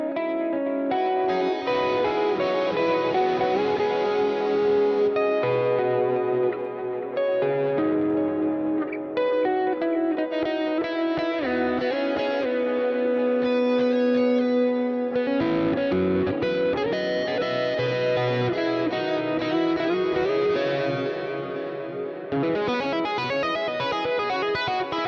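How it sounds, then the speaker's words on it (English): Electric guitar leads played through the Neural DSP Archetype Plini X plugin, a continuous melodic, effects-laden lead line with chorus, delay and reverb over a full backing mix, loud and steady throughout with no talking. "So like all of these leads have the Archetype Plini X."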